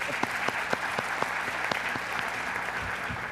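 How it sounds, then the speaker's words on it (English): Audience applause at a public safety forum in Minnesota, a steady round of clapping from a crowd in a hall, moderately loud and sustained, with a few sharper claps standing out. "give them a round of applause"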